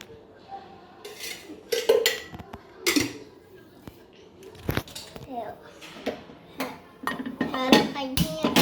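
Cooking oil going into a pan while making veg chowmein in a home kitchen, amid close clinks and knocks of utensils and cookware, with a voice talking throughout.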